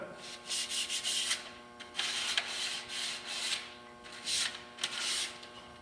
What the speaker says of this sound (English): When I'm sanding the first coat with 220 grit, I want to stay sanding with the grain.